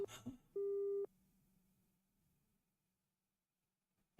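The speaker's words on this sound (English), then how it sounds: "I heard the cold electronic beep of an ended call" A single flat electronic beep marks a phone call ending in the Chaos;Child video game. The half-second tone follows a brief rustle and then fades into near silence.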